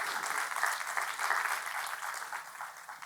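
A church congregation applauding to welcome first-time visitors during a worship service; dense, sustained clapping from many hands in a large room, steady throughout and fading slightly at the end.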